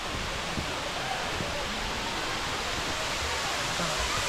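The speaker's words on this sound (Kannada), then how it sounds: "ತುಷಾರಗಿರಿ ವಾಟರ್ ಫಾಲ್ಸ್ ಇದು." Thusharagiri waterfall runs with light water, a steady, even broadband rush heard at a moderate distance and without pause.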